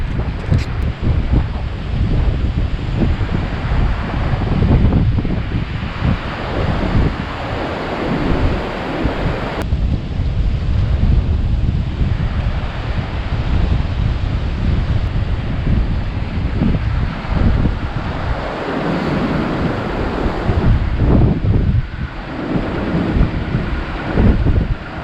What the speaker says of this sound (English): The wind has just been howling from the north, out of the north, down this beach the whole time.